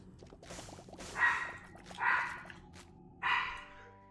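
A barky female pet dog gives three loud, separate barks about a second apart, close by, over faint background game sound.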